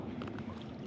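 Paddling a small boat along a canal near Leighton Buzzard, a steady low watery wash with soft splashes and faint wind, close and continuous with no talk.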